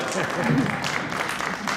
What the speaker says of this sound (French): Attendez la fin du discours pour applaudir.